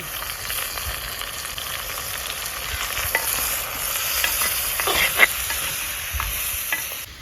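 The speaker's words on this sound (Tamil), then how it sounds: "இதில் தக்காளிலாம் போட்டுட்டு வதக்கியாச்சு நல்லா வதங்க விட்டு தள்ளி போட்டு ஒரு சுருளாக வதக்கி விட்டு" Tomatoes and spices sautéing in a pan for Tamil kuzhambu, a steady close sizzle with scraping stirs and a few sharper spoon clacks near the end, no talk.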